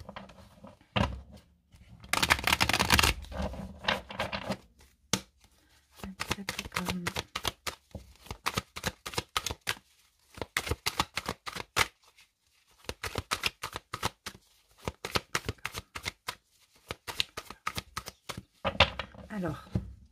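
Tarot and oracle cards are shuffled and cut by hand, with bursts of riffling and soft card slaps in irregular clusters, fairly quiet and close, with a voice speaking between some of the bursts.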